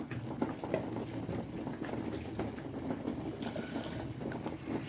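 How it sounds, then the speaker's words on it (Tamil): Steady water pouring and splashing into a pot of ribbon fish curry, a continuous watery patter running the whole time with no voices. "ஊற்றிட்டு கொஞ்சம் தண்ணியும் கழுவி ஒரு 1/4 டம்ளர் அதிலே சேர்த்துடலாம்"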